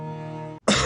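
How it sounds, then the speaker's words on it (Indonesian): One short, harsh cough bursts out right after a steady tone cuts off, in a herbal cough medicine advertisement. "Oh, batuk."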